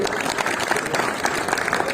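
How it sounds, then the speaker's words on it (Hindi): Audience applause at a Hindi poetry gathering, a loud continuous wash of many hands clapping close by, steady for the whole stretch. "एक बार जोरदार ताली।"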